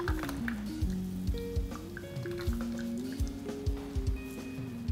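Almond pulp being squeezed by hand through a strainer for homemade almond milk, giving soft wet squishing with irregular drips of liquid, close and fairly quiet, without talk.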